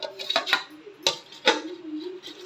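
A lid goes onto a pot of biryani cooked in light oil, giving a few close metallic clinks and taps spaced unevenly over a couple of seconds.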